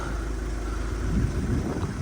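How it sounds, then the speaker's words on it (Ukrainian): A 2010 Volkswagen Golf 6 wagon with a 2.0 diesel engine and automatic gearbox idles with a low, steady rumble, close by and alone, growing slightly rougher midway. "Дизельний двигун."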